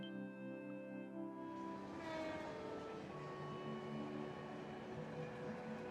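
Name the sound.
train arriving, from the video game Trails from Zero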